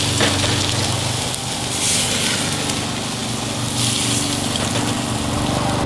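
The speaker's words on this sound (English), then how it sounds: "our neighbor thought it's cooled off enough to cut his grass" A neighbor's lawn mower cutting grass drones continuously at a steady, fairly loud level, with a rushing, hissing texture layered over it.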